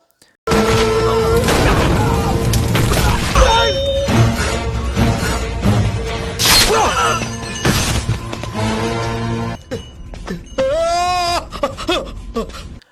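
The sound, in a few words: explosions in a film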